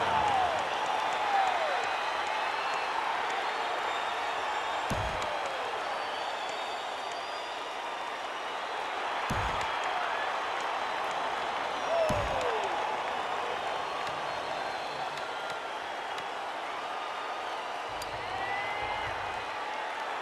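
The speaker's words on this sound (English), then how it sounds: "This crowd a huge factor right now against this offense." A big football stadium crowd at an Ohio at ECU college game roars and applauds in a sustained wash of noise, with sharp claps and bangs cutting through now and then.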